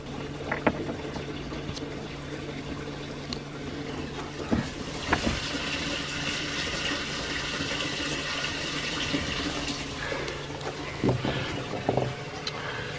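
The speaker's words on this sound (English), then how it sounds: "Now we are filling up the water tanks." Water runs steadily through a hose into the water tanks of a small sailboat at a dock at the Titusville Municipal Marina, a continuous rushing hiss with wind and a few knocks and clunks scattered through it.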